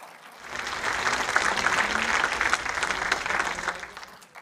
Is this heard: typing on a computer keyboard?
no